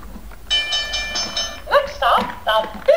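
A toy train plays a bright electronic chugging tune with bell-like tones, followed by a high-pitched recorded voice speaking short phrases, close and fairly loud.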